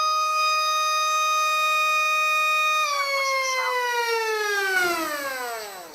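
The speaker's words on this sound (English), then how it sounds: "And the motor starts to accelerate." The brushed motor of a Macfree Mini F22 RC plane gives a loud, steady electric whine close by, which then slides downward in pitch and fades toward the end.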